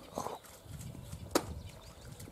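A horse called Tulan wanders near a taiga cabin, its hooves making faint, distant, irregular thuds with a single sharper knock partway through.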